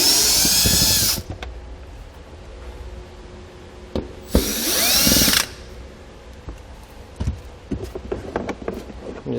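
A power drill backs Phillips head screws out of a cargo tray in a 2018 Mitsubishi, with two short, close, high whirring bursts separated by quieter clicks and handling clatter.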